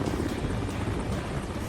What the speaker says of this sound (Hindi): गंगोत्री क्रूज की तरफ MI-17 हेलीकॉप्टर मंडरा रहा है।